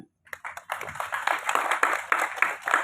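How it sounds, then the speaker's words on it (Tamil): An audience at a film event speech in Tamil Nadu breaks into steady applause, many hands clapping together at moderate distance. "உண்மையாக இருந்தால் கைதட்டுங்க"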